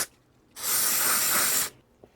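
Carb cleaner sprayed onto a motorcycle brake caliper from a Yamaha XJ600, one loud continuous hissing burst of a little over a second, close up, with quiet before and after.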